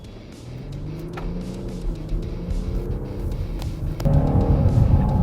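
Engines of a Jeep SUV and a Volvo station wagon accelerating together in a straight-line run, a steady loud drone that swells and rises in pitch, growing heavier near the end, with no voices.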